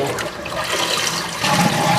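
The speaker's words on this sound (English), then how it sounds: "Flush the bowl." An American Standard toilet flushes up close, a rushing gurgle of water that swells louder toward the end.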